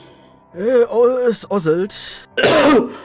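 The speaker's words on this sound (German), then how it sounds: "es ist nur Husten, das ist das Schlimme." A voice speaks briefly, then a sharp throat-clearing cough bursts out, loud and close to the microphone.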